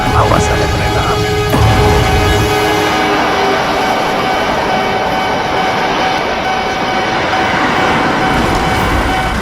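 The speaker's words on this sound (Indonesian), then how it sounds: "Awas ada kereta api." A train approaches a railway crossing, a loud sustained roar and rumble with a high steady tone running through, continuous and near, with voices faintly underneath.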